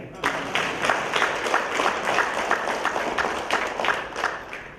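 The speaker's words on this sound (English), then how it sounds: "If you agree, you should clap again." An audience at an awards event applauds, a dense, sustained burst of clapping from many hands that holds steady for several seconds at moderate volume.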